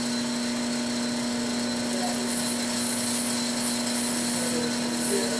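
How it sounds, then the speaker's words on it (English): A steady, continuous abrasive rubbing of 150-grit sanding on acrylic runs throughout with a constant low hum beneath it, close and moderate in level. "So I'm just going to go ahead and sand them."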